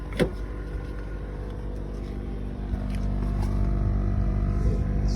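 A car left running on a Copart auction lot idles with a steady low engine hum that holds evenly throughout, joined by a few faint clicks and knocks nearby.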